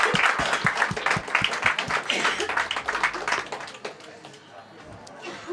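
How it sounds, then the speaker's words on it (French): An audience at a French trade-union gathering held in a bar applauds, with bursts of loud, close clapping from a modest crowd that thin out and fade toward the end. "elle mérite qu'on l'applaudisse toutes nos forces"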